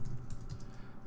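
Typing on a computer keyboard, a quick run of light key clicks close by, fairly soft with no talk.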